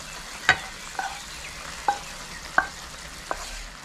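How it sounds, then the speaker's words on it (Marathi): A tadka tempering sizzles as it is poured into masoor dal in a kadhai, a soft steady frying hiss broken by five sharp spoon taps and clinks. "आता आपल्याला ह्याच्यात आपण जो तडका तयार करून घेतलाय तो टाकायचा"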